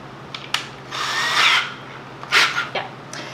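A power drill whirs in two short bursts, each rising briefly as a screw is driven into wood, with small clicks and knocks between them in a quiet room.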